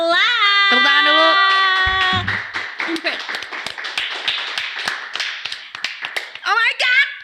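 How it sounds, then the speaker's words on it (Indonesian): An audience claps to welcome a guest on a talk show, a loud burst of many hands that starts under a voice, then settles into uneven clapping and fades as someone speaks and laughs at the end. "Tepuk tangan dulu."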